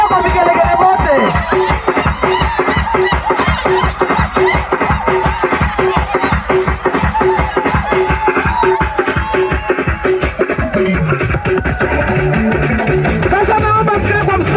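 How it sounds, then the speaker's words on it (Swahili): Women at a parental blessing party ululate in long, shrill trills to welcome guests, loud and close, layered over a dense, steady rhythmic clatter of the crowd's festivities. "Wamesema wanakupokea kwa vigelegele wote."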